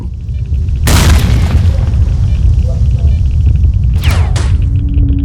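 A grenade explodes in the STALKER: Call of Pripyat video game, a loud sudden boom followed by a sustained rumbling roar, with a second whooshing burst near the end.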